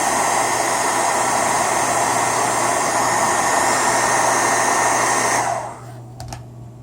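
A heat gun warms a vinyl overlay on a lock bar, giving a loud, steady close blowing roar that cuts off near the end, leaving a quieter background and a couple of small clicks.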